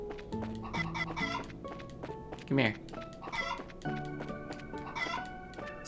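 Clucking chickens in the video game Legend of Heroes: Trails in the Sky, a steady stream of game-sound clucks with a brief louder squawk in the middle, under a man's speech.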